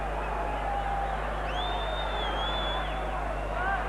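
Stadium crowd at a 1983 Australia v New Zealand rugby league test, a steady loud roar of cheering and whistling from a big crowd holding for several seconds.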